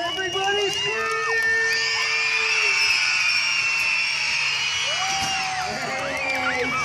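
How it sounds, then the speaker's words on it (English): Crowd of elementary school children screaming and whooping together at a school event, a loud sustained chorus of high shrieks that rises and falls over several seconds. "everybody scream!"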